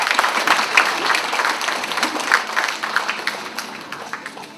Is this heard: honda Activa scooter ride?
no